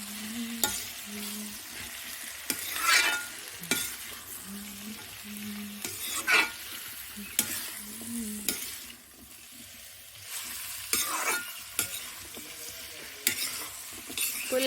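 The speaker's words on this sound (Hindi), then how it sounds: "अब जो है कुंदरू डालकर थोड़ी देर छौंक देते हैं।" Ivy gourd (kundru) is stir-fried in roasted masala in a village kitchen: a steady quiet sizzle broken by repeated scraping stirs of a spoon against the pan, with no talking.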